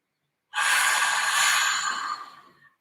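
A single deep breath drawn in close to the microphone, a long airy inhale lasting about two seconds before it tapers off.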